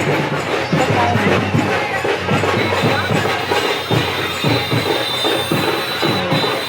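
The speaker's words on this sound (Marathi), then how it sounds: "आणि गर्दी आणि त्या ढोल ताशे आवाज होतो" Dhol and tasha drums pound at a traditional festival procession in Sangli, a dense, loud rhythmic beat mixed into the roar of a packed crowd.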